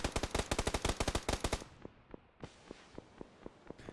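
Rapid automatic gunfire from the battle-royale game PUBG, a dense burst of fast shots followed by slower, fainter single shots spaced out with some echo.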